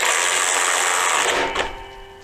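A Ryobi cordless ratchet wrench whirs loudly and close as it drives a bolt down, a steady motor buzz that strains and tapers off as the fastener tightens.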